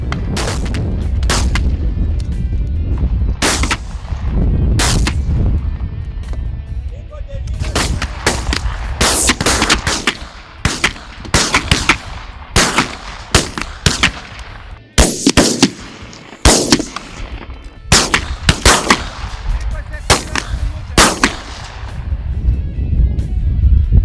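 Hunters fire at targets during shooting practice, a long series of loud, sharp gunshots in irregular volleys and single cracks, close by, with no talk over them.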